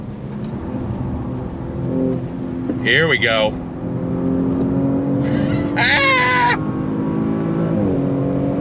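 The engine of a 2023 Audi S6 with its 8-speed automatic drones steadily from inside the cabin, rising through quick shifts, while someone talks over it.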